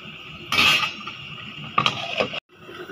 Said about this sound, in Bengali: এখন এটাকে আমি ঢেকে দিব